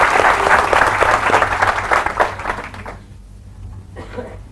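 Audience applause at a business seminar: a dense burst of clapping from a crowd for about three seconds, then dying away into a quieter room with a few scattered claps.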